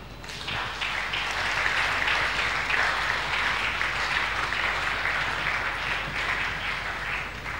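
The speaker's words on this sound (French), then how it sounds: "Nous acclamons." A church congregation applauding and cheering at an evening prayer service, a steady, dense wash of clapping that keeps up from start to finish.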